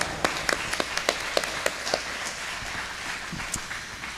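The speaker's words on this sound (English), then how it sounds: "Please give them a big round of applause." Scattered, uneven clapping for the Morongo Basin Republican Club at a meeting, a handful of distinct claps early that thin out into faint background rustle.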